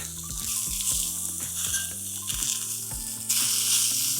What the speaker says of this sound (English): Flipping my steak.